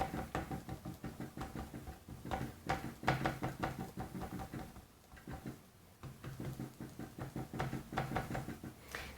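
A rubber stamp is pressed repeatedly onto paper after inking, giving close, soft thumps and taps in uneven bursts with short pauses between them, no voices.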